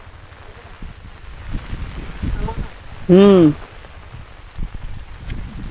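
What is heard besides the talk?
rain falling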